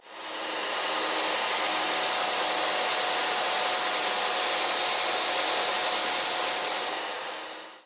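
A belt and disc sander sands wood in a workshop, producing a loud, steady broadband whir and rasp that rises, holds evenly for several seconds, then tapers off, with no talking.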